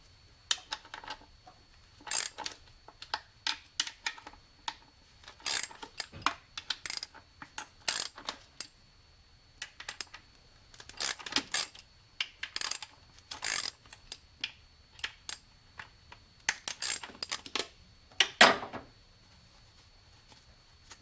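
A ratchet clicks in short, irregular bursts while loosening the 13mm intake bolts on a 3.6 LFX engine in a ninth-generation Chevrolet Impala. The sound is close and crisp, with pauses between the runs of clicking and no speech.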